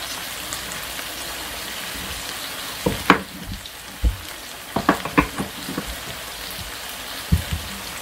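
Beef liver browning in a frying pan for liver steak with onions, a dense continuous sizzle with scattered pops and spatters, close and fairly loud.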